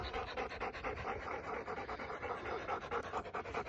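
Two dogs pant rapidly and steadily right up close after a mountain bike run, a continuous rhythmic huffing with no talking.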